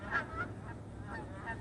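Geese honk a few times at a distance, faint overlapping calls repeating over soft outdoor background noise at a wildlife refuge.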